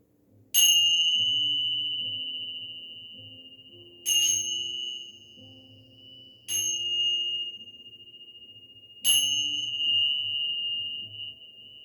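Bells struck during a gentle yoga relaxation, four separate clear ringing strikes several seconds apart, each with a bright attack and a long sustained fading tone.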